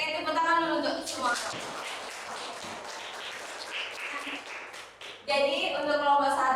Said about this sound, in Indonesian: Oke, tepuk tangan dulu untuk semua.